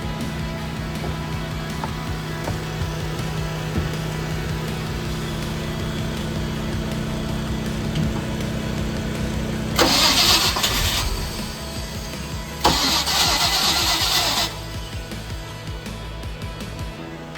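A yacht's starboard 305 engine being started over a steady mechanical drone from running blowers, with two loud bursts of harsh hissing cranking and catching noise close by, no talk.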